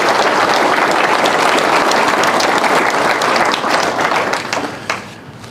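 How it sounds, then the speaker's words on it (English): Dense, loud applause from a large audience at a city's State of the City event fills the clip and fades out at the end. "Let's give them another round of applause."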